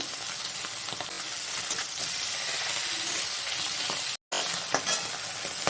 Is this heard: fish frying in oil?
yes